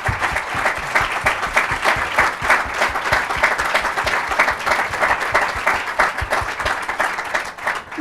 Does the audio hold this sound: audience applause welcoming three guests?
yes